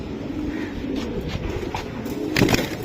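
Pigeons coo softly and steadily at a pigeon seller's stall, a low continuous murmur of birds with a brief louder burst near the end.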